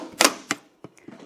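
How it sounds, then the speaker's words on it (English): Scissors snip into a squeezed plastic pop bottle, giving a few sharp, close crunching cuts followed by fainter clicks and crinkles. "squeeze the bottle and then just carefully cut."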